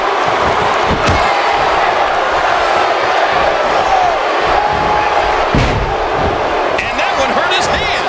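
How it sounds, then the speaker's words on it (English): A WWE 2K17 wrestling arena crowd buzzes in a constant loud roar with scattered shouts and thuds, while commentators talk over it. "the crowd is buzzing because Brock Lesnar is present and accounted for."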